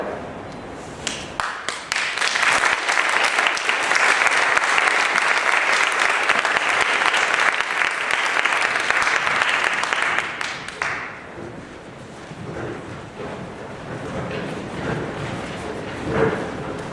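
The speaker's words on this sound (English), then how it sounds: "give them another round of applause" Sustained audience applause at a school Holocaust Memorial Day event, loud and dense clapping from a large crowd that swells, holds steady for several seconds, then thins out into scattered claps and murmurs.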